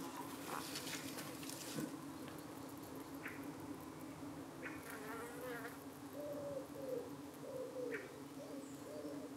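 Honey bees buzz around a hive entrance under trees in the UK, a faint steady hum close by, with birdsong and a few wing passes drifting over the outdoor background.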